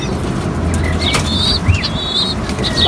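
A breeder pigeon flaps its wings close by, heard as a soft fluttering burst against steady background noise, with faint bird chirps and calls scattered throughout.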